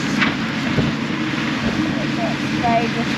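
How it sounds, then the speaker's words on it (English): Strong wind buffeting a microphone outdoors on a farm while a digger moves dirt, a rough low rumble with gusty swells throughout the short stretch, with no clear voices. "Oh, really windy right now. Really windy."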